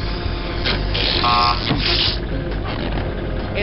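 An alarm buzzes in the 1999 video game Spy Fox 2: Some Assembly Required. A short steady tone sounds over a dense, continuous mix of game noise.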